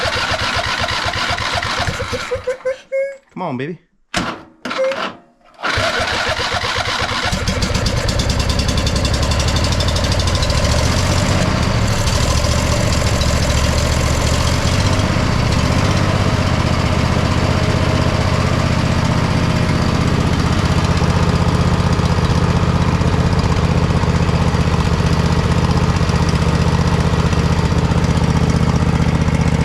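A Poulan riding mower fitted with a new alternator cranks in a few choppy bursts, then fires and settles into a loud, steady, close running drone, with a brief voice early on.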